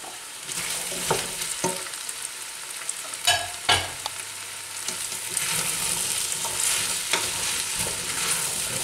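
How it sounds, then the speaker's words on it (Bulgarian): Zucchini fries in a pan while being stirred, a constant close sizzle with repeated scraping and knocking of a utensil against the pan, a couple of louder clunks in the middle. "Добавяме тиквичките и също разбъркваме."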